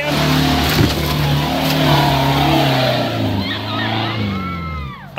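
Can-Am off-road vehicle engine revving loudly close by, a roaring, rising engine note that swells and fades as it passes, with crowd noise faintly underneath.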